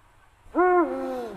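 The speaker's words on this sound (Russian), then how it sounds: "Там у нас филин. Это уже старый филин." Old eagle owl in a garden: one loud, close, drawn-out hoot that rises, holds, then sinks and fades, with quiet before it.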